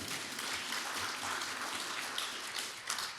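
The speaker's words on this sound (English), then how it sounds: "they deserve a round of applause" Sustained applause from a large seated audience at a formal gala dinner, a dense, even wash of clapping held steady, heard from a little distance in a big hall.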